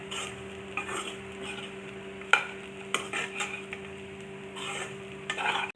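Masala for mutton gravy frying and being stirred in a pan over a low gas flame, with a steady soft sizzle and repeated scraping stir strokes, close and alone.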